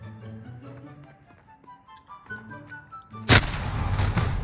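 A single loud sniper shot cracks near the end of a Call of Duty: Modern Warfare match, booming abruptly after a stretch of quieter game sounds and music.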